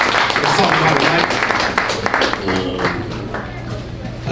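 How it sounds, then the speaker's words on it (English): An audience at a men's panel event in Los Angeles breaks into loud sustained applause, dense clapping with a voice talking over it. "Clap it up for that."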